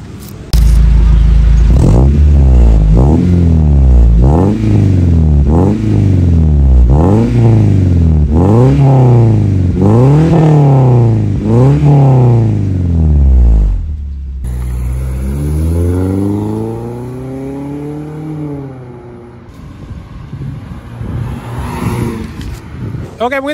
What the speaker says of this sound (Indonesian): Kita langsung cek sound knalpotnya